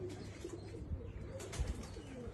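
Soft, low pigeon coos repeat intermittently at close range over a faint steady background hum, with no talking.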